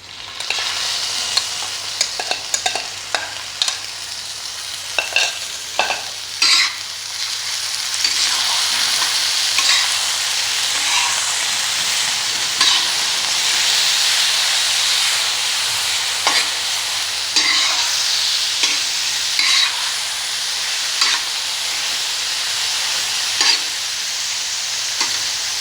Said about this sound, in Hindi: अब इस स्टेज पे मैं इसमें ये जो मैंने मैरिनेट की थी कलेजी ये शामिल कर दूँगी।